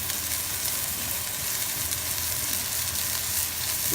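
A thick ribeye steak sizzles and fries steadily in a pan, a continuous close hiss with faint crackles and no talking.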